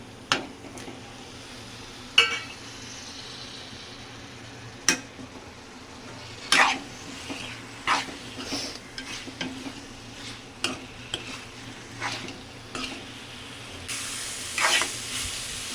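Prawns fry with turmeric and ridge gourd in a pan over a high flame, a soft steady sizzle broken by periodic clinks and scrapes of a spoon stirring, with a brief louder hiss near the end.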